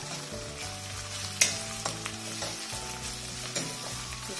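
Onions and ginger garlic paste fry in a pan with a steady close sizzle, broken by a few clinks and scrapes of stirring.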